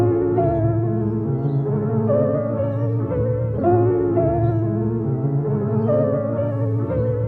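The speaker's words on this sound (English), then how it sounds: "So first, let's try old tape lo-fi, see what that sounds like." Music sample processed by the Tape Mellify plugin's old tape lo-fi preset, a warm, slightly wobbling chordal loop playing steadily and loud for several seconds with no voices.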